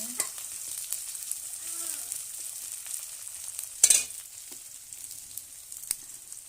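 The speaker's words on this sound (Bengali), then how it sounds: "পেঁয়াজগুলো দিয়ে একটু নেড়ে চেড়ে নিয়ে" Sliced onions frying over a village wood-fired clay stove and stirred, a bright continuous sizzle with light spoon scrapes and one louder clatter midway.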